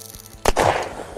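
A single sharp gunshot in the Unturned 3.0 video game, a loud abrupt crack followed by a brief rumbling decay, standing out over quiet background sound.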